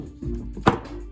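Cable cutters snipping through heat shrink tubing: one short, sharp crunch up close over a low background rumble.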